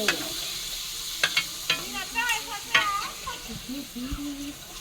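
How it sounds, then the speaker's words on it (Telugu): Papads frying in hot oil give off a steady sizzle, with light stirring and scraping noises and a faint voice murmuring close by in a home kitchen. "నూనె వేడెక్కింది అప్పుడాలు వేస్తున్నాను"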